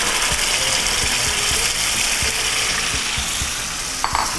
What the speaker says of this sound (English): Mix that because we want that to kind of simmer and cook together